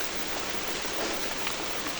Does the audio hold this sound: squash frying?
no